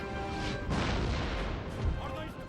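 Artillery batteries firing in a Napoleonic-era Total War: Napoleon battle, with a heavy booming crash and rumble rising midway through a dense wash of battle noise and music tones.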